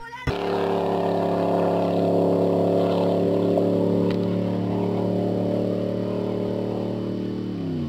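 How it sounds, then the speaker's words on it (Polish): A game car engine revs up under nitro boost in a loud, sustained roar, its pitch holding high and steady as it speeds along. "Muszę dogazować, i to ostro. Już nie to nitro dawaj."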